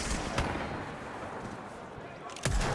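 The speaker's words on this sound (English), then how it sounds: "looks like it might actually start to have some firing happening in it" Gunfire in Apex Legends during a competitive match, a few sharp distant shots, one early and a louder cluster near the end, over steady background game noise.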